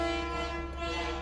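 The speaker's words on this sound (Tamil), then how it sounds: "பயங்கரமான ஒரு ஹார்ன் சவுண்டுங்க." A loud, sustained horn blares with steady, pure, train-like tones for the full duration, holding an even level with no breaks and no speech over it.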